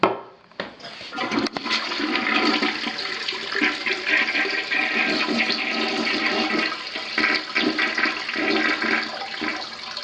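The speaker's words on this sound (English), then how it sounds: "So neither commode is flushing worth a darn." A household toilet with a weak, faulty flush: after a click of the handle, a loud rushing, gurgling flush of water runs steadily for about nine seconds before tapering at the end.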